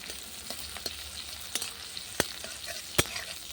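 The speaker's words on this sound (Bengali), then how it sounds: "ভালো করে ফোড়নটা ভেজে নেব।" Five fresh green chillies, three dry red chillies, garlic and chopped onion fry as a tempering on a clay stove, giving a soft, close sizzle broken by scattered sharp pops and crackles.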